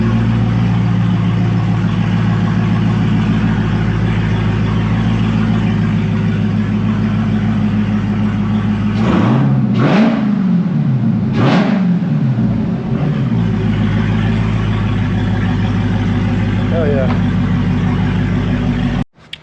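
Widebody Dodge Hellcat with a loud new exhaust idling with a deep rumble, then blipped in two sharp revs that swell and fall back before settling into idle again, close and loud.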